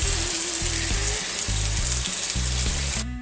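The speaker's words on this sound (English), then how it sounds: "I got the sausage on low heat right now" Frozen sausage cooks in a pan over low heat, a steady close sizzle and crackle of frying that carries on unbroken, with a low hum of background noise underneath.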